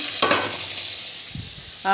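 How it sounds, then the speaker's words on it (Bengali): Brinjal, pointed gourd and green banana slices frying in hot oil, a continuous close sizzle with a couple of brief stirring clatters and one short spoken word at the end. "এখানে তিন রকমের ভাজা হবে বেগুন ভাজা পটল ভাজা আর কাঁচকলা ভাজা"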